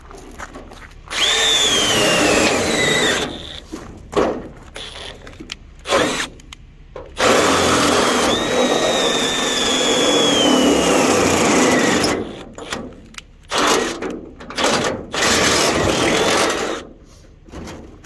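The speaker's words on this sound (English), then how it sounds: "So, we got 5 hood pin holes. We got a drill" A power drill bores hood pin holes in a car hood, several loud whirring bursts of a few seconds each with pitch sweeps as the bit bites, separated by short quiet pauses.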